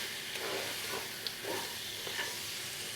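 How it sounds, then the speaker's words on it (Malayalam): Sliced onions sauté in a pan for pepper chicken, giving a soft, continuous sizzle and hiss with a few gentle stirring scrapes, fairly quiet and without voices. "ഈ സവാളയും കൂടെ ചേർത്ത് നല്ലതായിട്ടൊന്ന് വഴറ്റുക."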